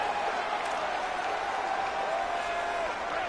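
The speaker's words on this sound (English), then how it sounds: "if you didn't know this was a big play, the crowd is telling you" A steady roar of cheering from a stadium crowd in a college football video game, Nebraska at Rutgers, swelling after a big third-down play in a tight game before a two-minute timeout, continuous and fairly loud with no voices over it.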